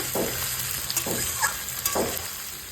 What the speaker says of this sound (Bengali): লাল লাল করে আমি পেঁয়াজটা ভেজে নেব।